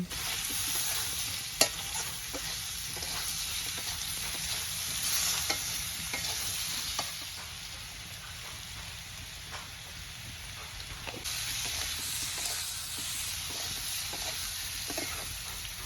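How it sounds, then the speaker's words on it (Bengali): Potato pieces fry in hot oil in a pan for a snakehead fish curry, giving a close, steady sizzle with repeated scraping stirs and a sharp clack near the start. "আলুটা ভাজা হয়ে যাওয়ার পর এখন দিয়ে দিচ্ছি আদা বাটা আর জিরে বাটা"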